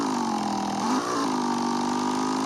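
A Yamaha XJ motorcycle engine revs for a wheelie, a steady mid-pitched drone that briefly rises and dips in pitch around the middle before settling back to an even hum, with no voices.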